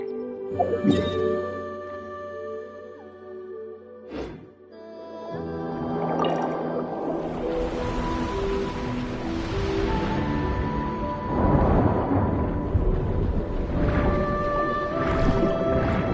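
A sluice gate mechanism activates in Genshin Impact, followed by a sustained wash of rushing water filling a chamber, layered over steady tonal game music with a sharp thud near the four-second mark.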